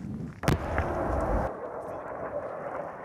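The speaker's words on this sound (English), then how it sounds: "we can hear the rebels are firing mortars up into the air where the Gaddafi bombers are still circling" A sharp heavy blast from rebels firing mortars, with bombing nearby around an oil storage depot, followed by a rumbling roar that cuts off abruptly, then quieter open-air noise.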